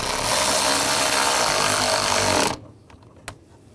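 Power tool tightening a screw on the intercooler of a 2009-2017 Volkswagen Tiguan, a loud continuous whirr for about two and a half seconds, then it cuts off, followed by a faint click.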